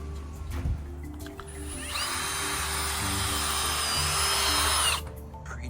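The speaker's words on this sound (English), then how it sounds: "Pre-drill all your 1x2s." An electric drill whines at high speed pre-drilling 1x2 wood boards for a backyard cat enclosure build, running steadily for about three seconds close by before stopping, over a low background hum.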